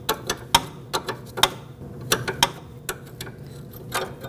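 A wrench works a rear outer brake hose fitting loose on a 2009-2015 Honda Pilot, giving a series of sharp metallic clicks and ticks at an irregular pace, close and fairly quiet against a low background.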